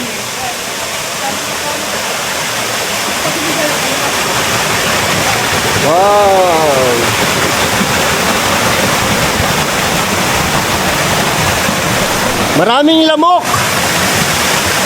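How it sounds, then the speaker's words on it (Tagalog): A waterfall at an abandoned 1980s resort roars as a constant broadband rush of falling water, close and loud. A voice exclaims over it twice. "Oh, ito yung falls."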